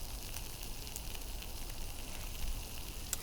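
Breakfast fries on a Trangia 27 spirit stove outdoors, a steady close crackling sizzle with faint pops and a low hiss of flame underneath.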